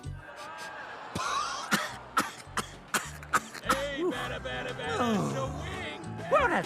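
Cartoon monster Mike from the animated series Monsters at Work coughs and splutters from a bad smell, a string of sharp, close coughs and throat noises mixed with voices and background sound effects.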